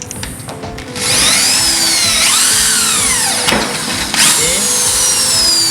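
Small bit drilling a pilot hole in a metal ATS AMF panel door, a loud steady high power-drill whine with pitch sweeps as the bit bites, running continuously after a brief start.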